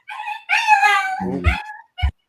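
A dog howls in a long, wavering, tonal wail, followed by a few short, low, muffled thumps and a brief final yelp-like burst, fairly close and clear with no talking.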